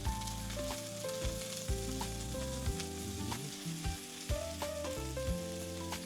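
Food sizzles steadily as a chef sautés it in a frying pan for a Christmas recipe, with loud continuous frying and repeated stirring scrapes and knocks of the pan.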